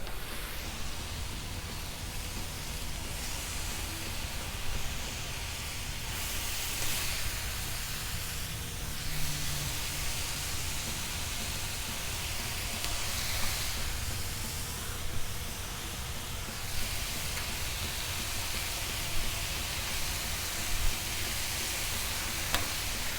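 A whole package of bacon fries on a Blackstone flat-top griddle, giving a steady, dense sizzling hiss that holds evenly throughout, with faint crackles and no talking.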